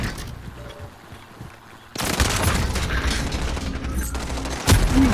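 Sustained automatic gunfire in Call of Duty: Modern Warfare multiplayer, heavy overlapping bursts that swell loudly after a quieter rumbling start, with a booming hit near the end.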